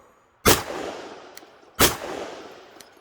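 Two loud, crisp shots from a custom Sig P320 pistol in .357 SIG, about a second and a half apart, each trailing off in a brief echo with a faint tick afterward, with no voices.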